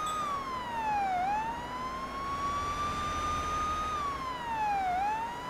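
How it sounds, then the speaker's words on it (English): A police siren in a police simulator video game wails up and down in a slow, smooth sweep, steady and fairly loud, with nothing else clearly heard. "Let's use the sirens."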